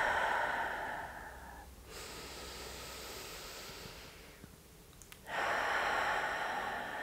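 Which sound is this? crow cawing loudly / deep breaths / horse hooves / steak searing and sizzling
deep breaths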